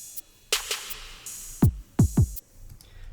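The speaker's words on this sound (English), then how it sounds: "I have a open hi-hat with the closed hi-hat" A short, sparse trap drum pattern made in Logic Pro X with crisp, sizzling hi-hat hits, an open hiss cut off by tight closed ticks, alongside a few deep thumps.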